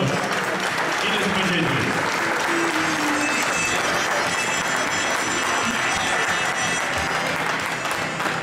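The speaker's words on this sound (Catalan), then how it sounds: "una abraçada i un aplaudiment per ells" Loud, sustained applause from a crowd in a town square for firefighters and farmers, dense continuous clapping with cheering and voices mixed in throughout.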